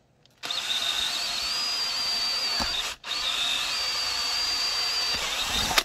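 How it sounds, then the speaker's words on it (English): A power drill bores through a clamped Kydex holster for a Ruger LC9 or Taurus G2c, whining steadily in two close, loud bursts separated by a brief pause. "we'll go ahead and drill."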